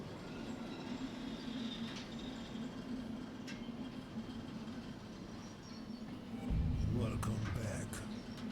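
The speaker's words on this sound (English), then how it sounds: "Oh, this is taking a lot longer to slow down. I need the train brake now." A train slows under braking in the Derail Valley railway simulator game, giving a low, continuous rumble with faint squeals that swells louder near the end while a voice talks over it.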